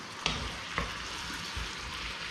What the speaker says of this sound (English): So let's take this, let's give it a stir.